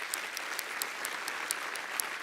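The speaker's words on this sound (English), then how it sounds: "Let's give a round of applause to our SAS Innovate sponsors who have helped make all of this possible." A conference audience applauds its event sponsors at an opening session, a steady even patter of many hands clapping together, fairly soft and distant, with no voices over it.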